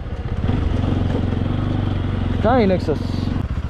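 A motorcycle engine runs with a steady low throbbing hum throughout, close by, while a man calls out briefly over it.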